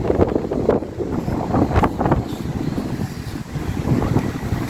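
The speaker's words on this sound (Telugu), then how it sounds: "గాలి ఎక్కువ ఉంది" Strong wind gusting between buildings in a commercial area in Canada, a steady broadband roar with louder buffeting bursts battering the microphone throughout.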